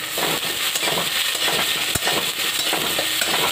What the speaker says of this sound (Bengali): এখন আমি এটা কিছু সময় ধরে ভেজে নেব